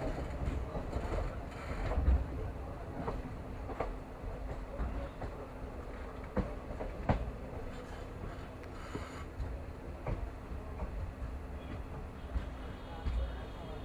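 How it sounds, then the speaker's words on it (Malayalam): The Kannur Ernakulam Intercity Express rolls slowly into Parappanangadi station, a low rumble of moving carriages with scattered clanks and knocks, moderately quiet and ongoing. "ട്രെയിൻ ഇപ്പം മെല്ലനെ പരപ്പനങ്ങാട് റെയിൽവേ സ്റ്റേഷൻ്റെ അടുത്ത് എത്താനായിട്ടുണ്ട്. ട്രെയിൻ നല്ല രീതിയിൽ സ്ലോ ആയിട്ടുണ്ട്."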